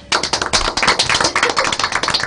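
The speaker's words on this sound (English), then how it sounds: "can we just give a round of applause for our group?" A class group gets a dense round of applause, many hands clapping steadily and loudly throughout with no break.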